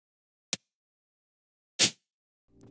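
Three separate layers of a synthesized snare built from a single sample, played one after another with gaps: a short sharp click, then a fuller noisy hit, then a brief tonal burst trailing off.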